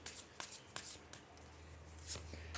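Several quick, crisp riffles of tarot cards being shuffled close by, in short bursts over a faint steady low hum.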